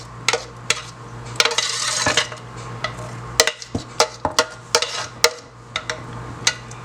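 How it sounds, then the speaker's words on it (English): A spoon stirs roux into cooked, drained macaroni in a pot for Bajan macaroni pie, making close, irregular scrapes and light clinks against the pot over a low steady hum, with no one speaking. "Now I'm going to add my roux to that. So just add it all in there."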